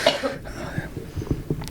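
A person coughs at close range, a sharp burst at the start followed by smaller throaty rasps and breaths in a noisy room.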